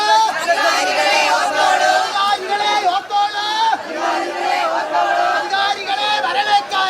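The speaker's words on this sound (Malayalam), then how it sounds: "വലിയ രീതിയിലുള്ള ആൾക്കൂട്ടമുണ്ട്." A large crowd of protesters shouts and chants together at close range, a loud continuous roar of many raised voices with brief dips and surges.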